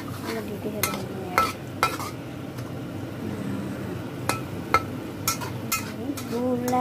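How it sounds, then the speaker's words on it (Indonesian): Fish and vegetable curry boiling in a pot, stirred with a utensil that clinks against the metal several times at irregular intervals, over a soft bubbling background. "Oke, kita aduk mendidih ya teman-teman."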